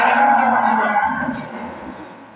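A four-toothed cow on a dairy farm lets out a single loud, close, drawn-out moo that fades toward the end, with no talk over it.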